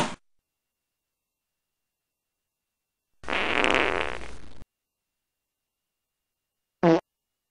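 Cartoon fart sound effects: a short burst at the start, a longer sputtering blast about a second and a half long in the middle, then a brief sharp toot near the end, separated by silence.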